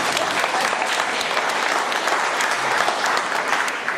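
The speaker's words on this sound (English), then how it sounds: "I think that deserves a round of applause." Audience applause at a school book launch in Pietermaritzburg, steady dense clapping from a large crowd that fills the room continuously and stays loud throughout, with no speech over it.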